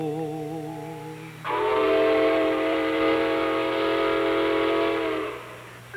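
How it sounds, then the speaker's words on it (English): A big steam locomotive whistle blows one long, loud, sustained harmonic blast lasting about four seconds, preceded by a quieter wavering tone and low rumble. "Big steam engine, before you go, let me hear your whistle"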